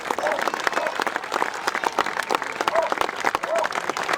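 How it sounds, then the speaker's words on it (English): Outdoor crowd at a charity rugby tournament breaking into a steady round of clapping, loud and close, lasting several seconds with a few shouts mixed in. "Give yourselves all a big round of applause."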